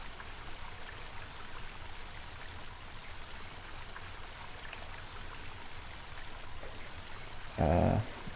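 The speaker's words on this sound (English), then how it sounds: "Let's go try to cross that river." River water in a video game flows as a soft, steady stream and trickle, with a brief louder thump near the end.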